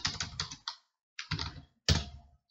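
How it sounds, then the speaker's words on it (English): Fingers tap a computer keyboard in three short bursts of rapid, crisp clicking, close and distinct, separated by brief silent pauses with no speech. "I want to finish typing before I apply the numbers"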